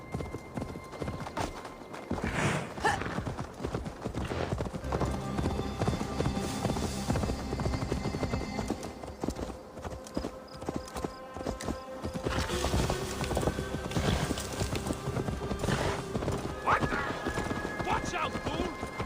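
Horse hooves clip-clop steadily in Assassin's Creed Valhalla, a rapid rhythm of hoof falls on the ground, with game music and occasional voices underneath.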